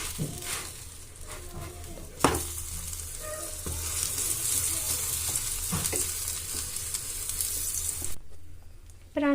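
Onion paratha sizzling on a home kitchen pan, a steady frying hiss with a few sharp clatters of utensils and shifting as it is handled, fairly close, with no talking.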